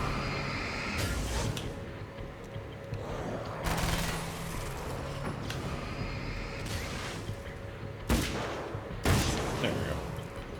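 Hunting rifle shots in the video game Alan Wake American Nightmare, several sharp loud reports spaced a few seconds apart over a busy game soundtrack.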